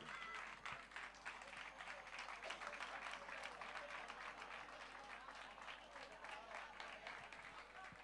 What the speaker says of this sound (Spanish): ese tímido aplauso, ese tímido aplauso